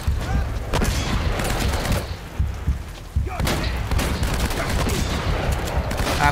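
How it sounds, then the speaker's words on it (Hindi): Video game gunfire from Uncharted: Drake's Fortune comes as rapid volleys of close shots with dull thumps. A short lull falls between two bursts, and a voice talks over the action. "वो तीन ब्लाइंड शॉट ब्लाइंड फायर करता है एक एक्यूरेट"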